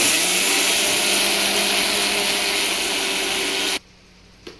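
Kitchen mixer grinding sugar: a loud steady high whirring buzz that runs close and unbroken for several seconds, then cuts off abruptly into near silence with a small knock at the end.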